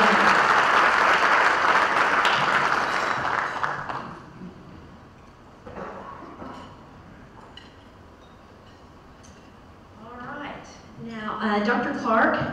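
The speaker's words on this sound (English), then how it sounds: "let's give them a round of applause" Audience applause at a state of education district event, loud clapping for the first few seconds that fades out, followed by quieter room sound and then a person talking.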